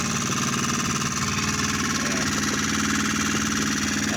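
A 2021 Hangkai F6.5 four-stroke outboard motor idles steadily around 950 rpm with a dense, even rumble and faint knocking texture throughout, close and continuous with no voices.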